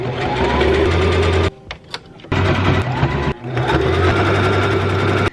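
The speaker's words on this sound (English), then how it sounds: "Continue sewing your project step by step until you've reached the last step." A sewing machine stitching a project runs in fast, even bursts, loud and close, with two short pauses between runs and no voices.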